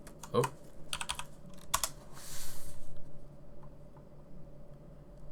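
Typing on a computer keyboard: short bursts of quick key clicks, a few rapid groups followed by a softer longer press, close and quiet, with no talk.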